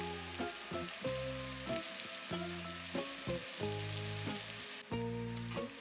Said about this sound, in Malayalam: ഇഞ്ചിയും വെളുത്തുള്ളിയും ആദ്യം വറുത്തെടുക്കാം. അതിൻ്റെ കൂടെ പച്ചമുളകും ഇട്ട് കൊടുക്കണം. ഇത് നന്നായിട്ട് സോട്ടേ ചെയ്ത് വഴറ്റിയെടുക്കുക.